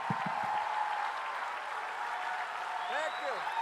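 Crowd applause greets someone at a live comedy event, a steady broadband clatter of many hands throughout, with cheering voices and a person speaking over it.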